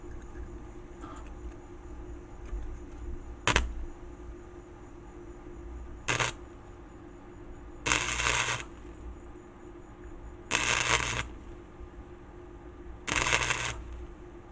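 Tack welding on a steel front hub for a mud mower, a series of short sizzling, crackling bursts: brief pops near 3.5 and 6 seconds, then three longer sizzles of about a second each, close and loud over a steady low hum.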